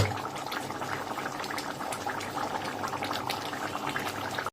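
A pot of shrimp and jackfruit curry boils at a dense, continuous bubbling simmer, close and steady throughout, then cuts off abruptly at the end.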